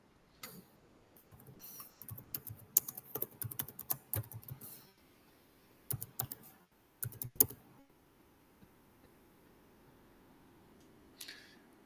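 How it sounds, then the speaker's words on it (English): Someone types a search term on a computer keyboard in quick bursts of clicking keystrokes, with pauses between the runs, close and fairly quiet. "So let's just type in first aid training."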